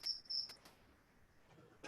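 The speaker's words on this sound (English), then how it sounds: "What is that? A cricket?" A cricket chirps indoors in two short, high, shrill bursts, then falls quiet, with faint clicks in between.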